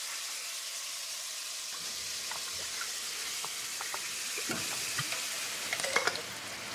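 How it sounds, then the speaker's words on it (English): Tomato puree poured into a hot pan for Sunday gravy, a soft continuous hiss and gentle sizzle with faint scattered pops and clicks, no talking. "It's just a simple tomato puree that I'm just gonna put in."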